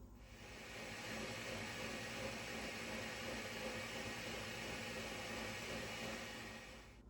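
A Ninja blender blending sauce ingredients with water, oregano and pepper, a steady, even whir running without pause for several seconds, heard faintly and alone.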